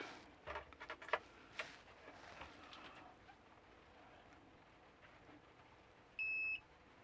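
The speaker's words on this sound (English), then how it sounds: "Touch them together, it'll make a beep." A single sustained electronic multimeter continuity beep near the end, clear and steady, after a few faint taps and clicks in a quiet room.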